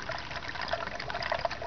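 New Toyota SLLC coolant is poured slowly into the inverter coolant reservoir of a Prius, giving a steady, close liquid trickle and gurgle with no voices.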